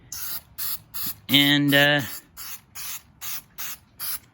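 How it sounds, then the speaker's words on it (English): Spray adhesive can spraying onto a dry rag laid over plastic: a series of short, even hissing bursts in steady rhythm, close and fairly loud, with a brief spoken word partway through. "Take your spray adhesive, shake it up good,"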